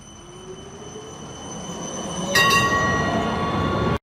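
A metro train rolls along with a steady rumble and rising whine, then a sharp screech and tonal squeal of wheels or brakes join in partway, loud and close, with no voices.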